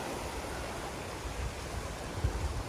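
Steady rushing water from a fast stream on Phu Quoc, Vietnam, a constant broadband hiss with low rumbles, no voices.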